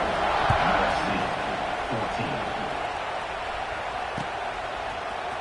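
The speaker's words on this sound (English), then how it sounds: "this crowd is buzzing after that last score" A football stadium crowd buzzes after a score, a steady wash of distant voices and murmuring that holds at an even level with no single voice standing out.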